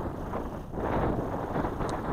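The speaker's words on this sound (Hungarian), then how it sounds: "Hát gondolom ezt már halljátok is, hogy itt baromira fúj a szél." Wind gusts steadily into the microphone along the edge of a ploughed field on a hiking trail, a loud continuous low rumble that swells and buffets for the whole stretch, with no talk.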